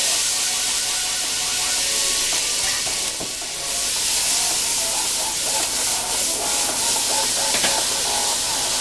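A mirepoix of celery, onion and carrot sizzles loudly and steadily in hot oil and butter for a chicken noodle soup base, a dense, continuous frying hiss with faint stirring clinks and no voices.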